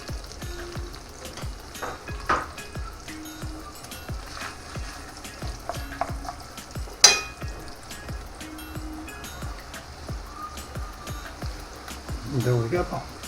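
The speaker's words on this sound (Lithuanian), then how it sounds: "Mūsų daržovės apkepiau." Vegetables frying in a pan, a soft continuous sizzle with intermittent utensil clicks and scrapes from stirring, close by and fairly quiet.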